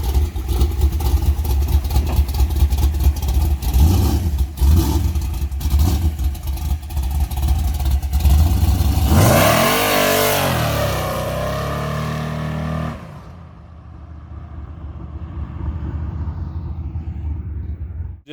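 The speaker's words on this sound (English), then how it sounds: "Just want to let y'all check that old Chevy out, man. Thing sound good, run strong." An old Chevy OBS pickup engine runs steadily, swells into a loud rev for a few seconds, then drops back to a lower, quieter idle.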